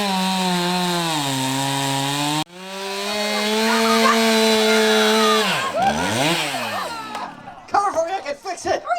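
A chainsaw cutting wood roars steadily with wavering pitch, revving up and down as it bites, then sputters into choppy bursts near the end.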